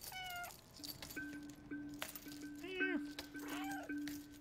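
A cat in the video game Stray gives several short, clear meows with rising and falling pitch, spread over a few seconds above a soft game soundscape with a sustained tone.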